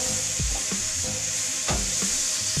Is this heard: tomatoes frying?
yes